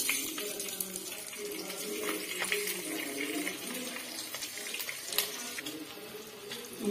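Green chilies hit hot oil that has been tempered with cumin and asafoetida, for Rajasthani besan-stuffed chilies, and set off a continuous close crackling sizzle with scattered sharper pops.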